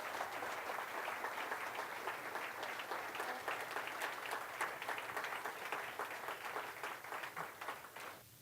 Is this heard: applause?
yes